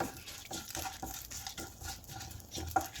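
Grated coconut frying in coconut oil with a spoon stirring it in the pan: soft scraping and irregular patter of stirring over a faint, steady sizzle, close and fairly quiet, with no talking.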